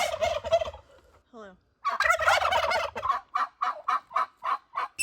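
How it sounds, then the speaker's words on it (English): A flock of turkeys and chickens in their house on a Central Missouri homestead gobbles loudly in rapid repeated bursts, close by, with a brief greeting spoken among the calls. "the main flock of turkeys and chickens are"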